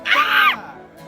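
A person lets out a single loud, sustained scream outdoors on the hilltops of Marlboro Hills in Sagada. It lasts about half a second and is followed by quiet open air.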